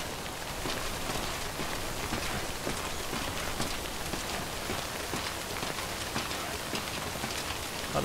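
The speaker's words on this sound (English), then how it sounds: "Don't stay out in the rain any longer than you have to." Steady, dense rainfall of Timefall from the video game Death Stranding, a continuous even hiss of drops with no pauses, filling the whole stretch at a constant moderate level.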